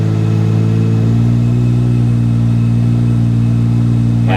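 A 4.1-litre turbocharged Porsche Cayman engine holds steady around 2000 rpm on a dyno, its loud, continuous low drone rising slightly in pitch as the load builds, with no voices over it.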